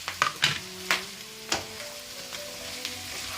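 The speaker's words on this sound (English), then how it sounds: "Now I'm going to add the cauliflower batter, which I fried and kept." Fried cauliflower batter pieces added to a hot pan of onions, garlic and ginger for Gobi Manchurian, giving a steady close sizzle with a few sharp clatters and stirring knocks near the start.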